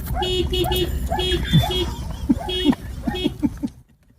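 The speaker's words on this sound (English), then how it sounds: "they saw this little dog barking and honking at its owner to hurry up" A little dog named Diamond sets off a car horn in a series of short honks, mixed with barking, on a noisy street.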